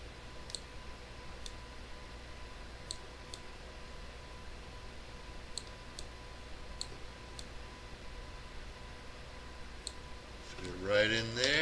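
Sparse, faint computer mouse clicks, single sharp ticks scattered every second or two over a low background hum, with a brief louder sound rising at the very end.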